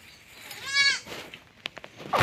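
A goat bleats once, a short wavering cry close by outdoors near a duhat tree, followed by a few faint knocks and rustles.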